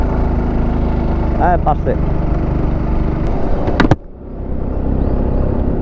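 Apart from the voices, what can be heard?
car engine braking in third gear down steep hill road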